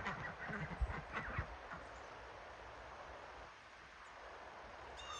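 A few geese honk faintly and irregularly at the start, then fade into soft outdoor background noise.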